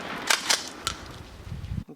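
A Winchester Trench Gun 12 gauge shotgun fires slugs, sharp cracking reports at a distance, two close together and a third shortly after, with faint background noise.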